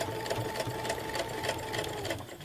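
A sewing machine stitches along fabric edges and curves, a steady rapid mechanical whir with even ticking needle strokes, close and moderately quiet.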